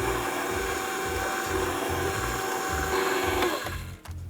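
A stand mixer runs steadily through a final mix of creamy cheesecake batter, its low motor hum carrying a regular beating rhythm before the mixer cuts off near the end.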